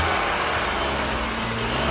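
A Ford Mazda car engine runs steadily with its fuel line disconnected, an even close-up drone with a low rumble and broadband hiss throughout, no voices.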